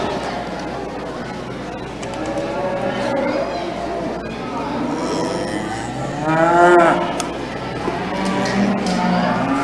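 Heifers moo loudly at a cattle show, with one strong drawn-out call near the middle over a steady crowd murmur and announcer-style talk.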